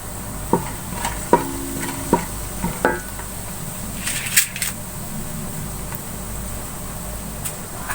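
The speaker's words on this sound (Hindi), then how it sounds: "इसी कुकिंग ऑयल में 1 टीस्पून जीरा शामिल कर देंगे।" A teaspoon of cumin seeds dropped into hot cooking oil left from frying potatoes, giving a steady close sizzle and crackle with occasional stirring clinks and scrapes.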